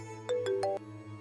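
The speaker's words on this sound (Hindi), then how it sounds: "बेटा, तुम्हारा फोन बज रहा है, उठाओ तो सही" A mobile phone rings indoors, playing a short melodic tone of four rising notes, clear and close over a low steady hum, with no one talking during the ring.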